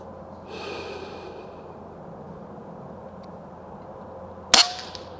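Single sharp shot from a Umarex Zelos .25 caliber air rifle at a shooting range, a loud close crack standing out against quiet background noise and breathing.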